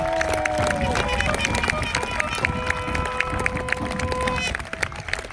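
Audience at a jousting show at Kenilworth Castle applauds steadily, a broad wash of clapping with some voices and musical tones over it, tapering near the end.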